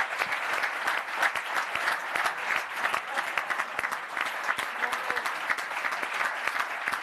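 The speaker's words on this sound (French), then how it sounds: "Et je crois qu'on peut s'applaudir" An audience at a conference on running and health through movement applauds in a dense, sustained wash of clapping that holds steady for several seconds with no voices standing out.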